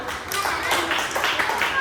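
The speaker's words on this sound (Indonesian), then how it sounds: "Oke, beri tepuk tangan." Children in an outdoor physical education lesson clap their hands in a short burst of uneven, moderately loud claps, mixed with voices.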